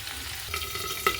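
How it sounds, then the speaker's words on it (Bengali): Potato pieces fry in hot oil in a pan after being turned to the other side, a soft, close sizzle with a couple of quick stirring clicks, no talk. "এবারে আরেক পিঠ ভাজা ভাজা হোক।"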